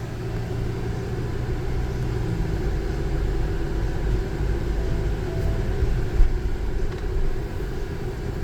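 A 2025 OGV van fitted with trailer tow mirrors is driven slowly around the block, with a steady low engine and road rumble throughout and no talking.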